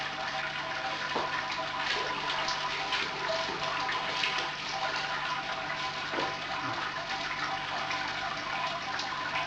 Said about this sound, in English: Sparge water.